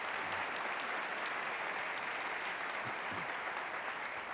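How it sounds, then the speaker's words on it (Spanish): A studio audience at a Colombian TV comedy show applauds steadily for a 30th anniversary, a dense, even wash of clapping that holds at moderate level throughout with no voices. "Ustedes, un aplauso para los 30 años del Águila Descalza."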